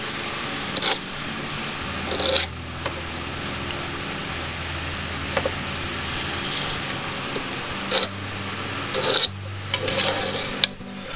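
A hand saw cuts fret slots into a wooden guitar fingerboard, giving a series of dry rasping strokes with short bursts over a low steady hum, close and moderately loud, with no talking.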